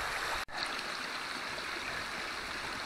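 A waterfall on a steep mountain ridge rushing in a continuous broadband roar, steady and fairly close, interrupted by a brief dropout near the start.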